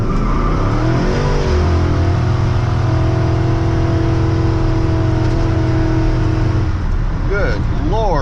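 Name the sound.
LS-swapped square body truck doing a tire burnout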